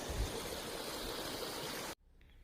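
Steady rushing irrigation water flows continuously into a field, close by, then cuts off abruptly near the end.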